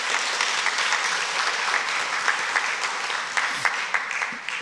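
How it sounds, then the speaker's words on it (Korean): Congregation applauding together during a Korean Sunday church service, warmly congratulating a couple on an upcoming wedding; steady, dense clapping fills the room throughout with no talking. "우리 또 결혼 전이니까 박수로 우리 한번 축하하면 좋겠어요"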